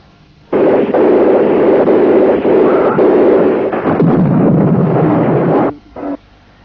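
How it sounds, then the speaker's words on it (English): Fierce artillery bombardment of Biafran positions at Awara near Owerri in September 1968 during the Nigerian civil war: a dense, continuous roar of blasts and rumbling that runs loud for several seconds, then cuts off with one short final burst. "Biafran positions at Awara suddenly come under fierce artillery bombardment"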